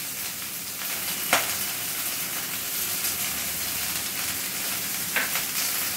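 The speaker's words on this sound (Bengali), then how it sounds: "হালকা করে ভেজে নেব, পুরোপুরি ভাজবো না, আধ ভাজা করে তুলে নেব" Okra is half-fried in hot oil, giving a dense, continuous sizzle close by, with two sharper hissing bursts as pieces shift or are stirred, and no talk.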